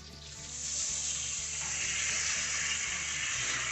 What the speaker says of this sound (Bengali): এবার আমরা দিয়ে দিচ্ছি গ্রেভির জন্য পরিমাণ মতো জল